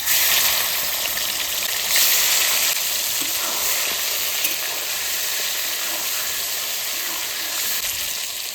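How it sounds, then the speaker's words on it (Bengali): Chicken pieces frying in oil in a kadai by a pond-side outdoor kitchen, a loud continuous close-up sizzle with dense crackling that barely varies. "এই যে চিকেনটা আমি তেলে ভেজে নেব।"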